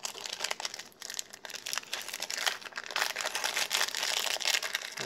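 A plastic toy bag being opened for a Bravest Warriors dog tag, close crinkling and crackling of thin plastic in continuous irregular bursts, no voices.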